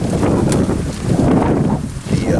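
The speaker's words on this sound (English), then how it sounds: "Like it's windy right now, as windy as it is right now." Gusty wind buffets the microphone in low, rumbling bursts that rise and fall at a hammock camping tarp setup, with a faint voice in the background.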